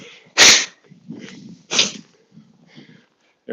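A single sharp, loud sneeze bursts out early, followed by a softer second sneeze-like burst, with quieter breathing and rustling between them during a cold outdoor walk.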